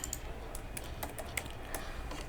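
Quiet typing on a computer keyboard, a run of light, irregular key clicks at close range with faint room noise beneath and no talking.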